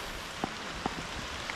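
Rain falls steadily outdoors on cleared farmland as a fine, even hiss, broken by a few sharp drops striking a nearby surface.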